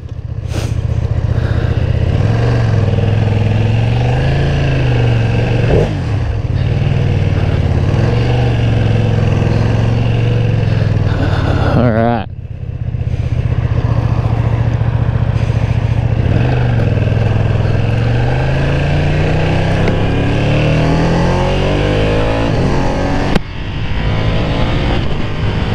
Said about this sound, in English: exhaust sounds okay for being stock, not too bad